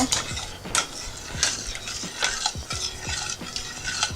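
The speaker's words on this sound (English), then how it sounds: "you got to keep stirring the glaze because it will thicken and start, it will stick to the bottom if you don't stir it constantly" Holiday ham glaze stirred constantly in a pan, with repeated close scraping and clinking strokes of a utensil against the metal in a steady rhythm over a faint bubbling sizzle, no voices.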